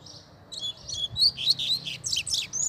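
A coleiro seedeater sings a series of bright, high chirping phrases close by, quick and repeated over a quiet background.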